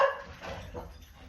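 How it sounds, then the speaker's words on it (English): Dogs bark and whimper in a short agitated burst, fairly close and loud, with no talk over them. "Those are dogs who are very upset by Fannie and Freddie too"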